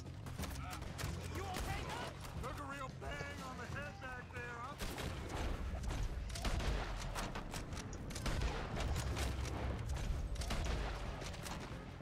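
Hip-fired gunshots in Red Dead Redemption 2, a run of sharp bursts and booms scattered through a busy firefight, mixed with game noise and someone talking over the action.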